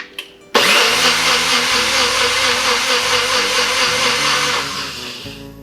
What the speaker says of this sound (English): I feel like I'm making a wine smoothie.